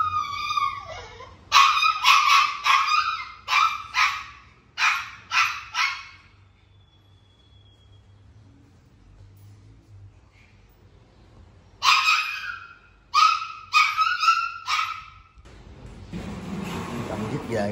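A dog barks in short sharp bursts, two clustered volleys separated by a quiet pause, fairly close and loud, with a low hum underneath and no clear speech over it.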